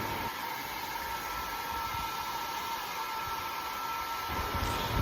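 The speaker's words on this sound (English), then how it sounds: "So now this is the time to use hair dryer." A hair dryer blowing on hair, a steady, loud, broadband whooshing hum running continuously without pause, no voices.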